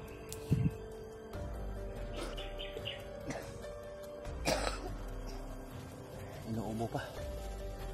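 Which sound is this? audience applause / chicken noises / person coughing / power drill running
person coughing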